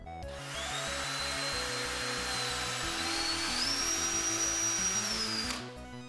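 A power drill with a 3.5mm bit whirs steadily for several seconds drilling through PTFE tube, its motor pitch rising slightly midway before cutting off abruptly.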